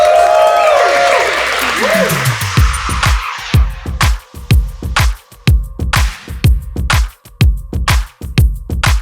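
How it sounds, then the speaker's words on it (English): Applause from a film-screening audience at a horror short film awards party rises with a voice at first, then settles into loud, evenly spaced rhythmic clapping in unison. "give yourself a round of applause for that"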